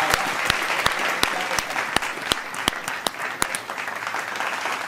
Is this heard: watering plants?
no